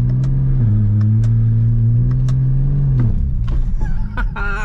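BMW E92 335i with a swapped-in DCT gearbox pulling hard, a loud engine drone that rises through a quick gearshift, then drops and changes character as the car eases off, with faint clicks over the top.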